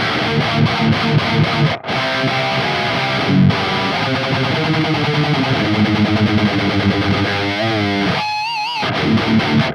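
A heavily distorted electric guitar plays through a Neural DSP Archetype Gojira amp, with dense sustained riffing and a few brief gaps. It ends in a squealing, warbling flourish before cutting out.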